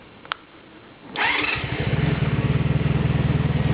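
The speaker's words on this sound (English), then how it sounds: "Now I'm gonna turn the bike back on" A 1994–2003 Honda Magna motorcycle engine cranks over after a brief click, catches loudly and settles into a close, steady, throbbing idle with no talking.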